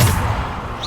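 A Bombarda spell blast in Hogwarts Legacy lands as a single short, heavy thud with a broad burst of low rumble that fades quickly.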